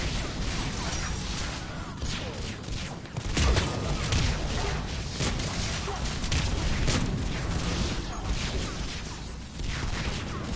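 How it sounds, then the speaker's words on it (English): Dense, continuous bursts of video-game gunfire and booming explosions, loud and chaotic throughout, with a heavier blast near the start. "I can't see anything over all the explosions."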